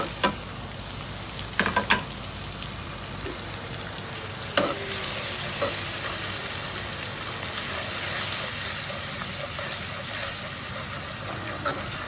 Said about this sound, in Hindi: अब इन सबको डाल के हम इसमें अच्छी तरह से मिक्स करते हैं